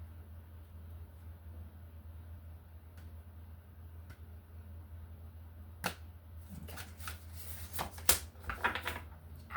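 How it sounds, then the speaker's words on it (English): Tarot cards are shuffled and cut with a few soft snaps early on, then a burst of brisk riffling and flicking card sounds near the end over a low steady hum. "cutting the deck with guidance"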